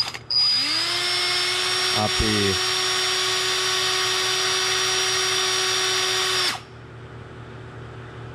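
A power drill fitted with a 1.5 mm bit whines steadily at close range while cleaning out a brake bleed nipple, starting and running at constant speed for about six seconds before stopping, with a brief voice over it.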